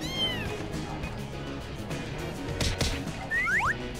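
A cat meows a few times, short rising and falling cries, with a louder pair of mews near the end over a low background hum.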